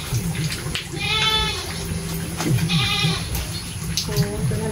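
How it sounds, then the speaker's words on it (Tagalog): A goat bleats twice at close range, each call a harmonic, wavering cry, with a shorter third bleat near the end over steady outdoor background noise. The goat is kept nearby while herbal plants are being hauled toward Manila. "Nasa nila yung kambing kaya maingay"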